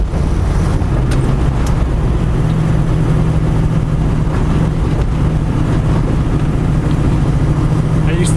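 A car with a sequential shifter drives along in fifth gear, a loud, steady low engine drone with wind rush throughout and someone speaking over it.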